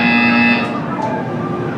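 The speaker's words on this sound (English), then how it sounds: "You will hear a buzzer." A loud, steady electronic buzzer tone from the game Portal 2, held for about half a second before fading into a lingering mechanical drone.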